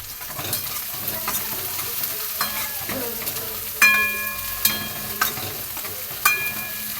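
Spring onions with asafoetida sautéed on a high flame in a pan for a kadhi, with a constant sizzling hiss and repeated sharp metallic clinks and scrapes of a spoon against the pan, close, with no speech.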